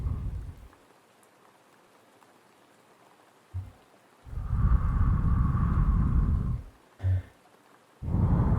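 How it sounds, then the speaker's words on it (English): Rain falling in a quiet indoor setting comes in separate bursts: a short patter, then a longer steady hiss of rain for about three seconds, another brief burst, and a final steady stretch, with near silence between, heard alone. "I really like the sounds of rain."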